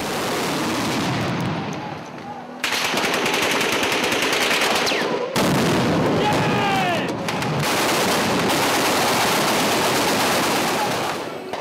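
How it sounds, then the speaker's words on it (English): Sustained, dense automatic gunfire during the battle for Bab al-Aziziya in Tripoli rattles continuously, loud and close, with brief pauses and shifting intensity throughout. "Then a deluge of gunfire."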